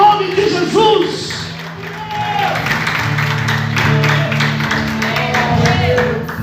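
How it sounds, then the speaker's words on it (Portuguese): Church congregation clapping along during a Sunday morning service, a dense steady wash of hands beneath a background of organ or music tones and voices, sustained throughout. "Aplauda o Senhor nessa manhã, em nome de Jesus"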